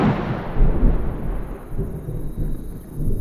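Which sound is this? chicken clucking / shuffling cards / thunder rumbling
thunder rumbling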